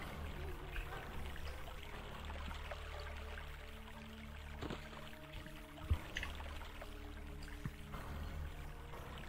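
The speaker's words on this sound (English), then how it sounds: "Very tall waterfall, okay." Steady roaring rush of a very tall waterfall in the video game Blood, a broad continuous wash of falling water with faint game noises and brief thumps layered over it.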